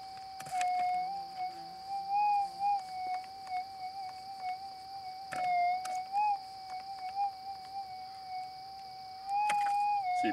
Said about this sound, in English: See, it picks up all lots of ground noise.